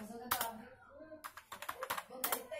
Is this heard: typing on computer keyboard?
yes